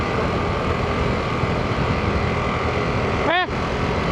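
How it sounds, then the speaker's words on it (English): A 2024 Harley-Davidson Pan America is ridden over bumps, a constant rumbling roar of engine and wind without distinct jolts, with a brief voice heard near the end. "I'm very specifically riding over the bumps, trying to get the suspension to soak them up"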